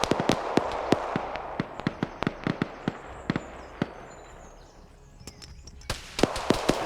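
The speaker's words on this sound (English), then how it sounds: "We got grenades going in." Grenade blasts in a player-versus-player match land as a rapid run of sharp, loud bangs spread across the stretch, thinning out briefly before a final dense cluster.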